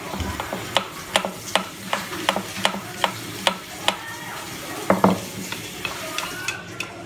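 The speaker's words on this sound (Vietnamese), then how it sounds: "Mình phi tỏi cho nó thơm lên nha các bạn." Garlic fries in a pan for steamed red grouper, giving a continuous sizzle broken by a regular series of sharp scraping clicks from stirring, close and fairly loud, with no talk.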